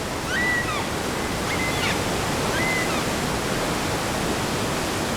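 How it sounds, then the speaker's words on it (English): Loud, steady roar of a waterfall and rushing rapids in a video game, a dense broadband wash of water holding constant throughout, with a few faint chirps riding above it. "So if I'm near something very loud, like the waterfall there, rapids, I won't be doing much speaking, because you can't hear me anyway."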